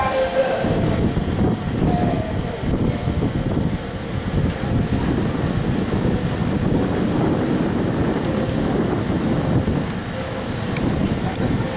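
A Southern Electrostar class 377 electric train pulls out of Hove station, a steady rumbling rolling noise with wind buffeting the microphone and a brief faint horn-like tone late on.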